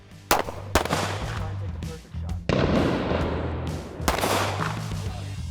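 A Savage Stance XR pistol fires during concealed-carry drawing practice at a range, producing a few sharp, loud, close reports separated by short gaps, with faint voices in the background.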